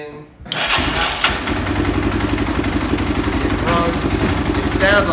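A Honda 300ex ATV engine with freshly adjusted valves and fuel mixture screw cranks and fires up, then settles into a loud, steady, close-up idle with a rapid, even putter throughout.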